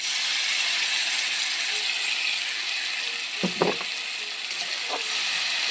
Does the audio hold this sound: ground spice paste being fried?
yes